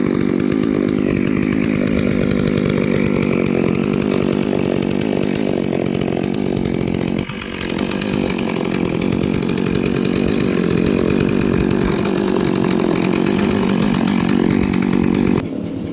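A Holzfforma 388, a 72cc clone of the Stihl MS380, runs loud and close for the whole stretch, holding a steady buzzing drone with a brief dip in pitch partway through, with no voices.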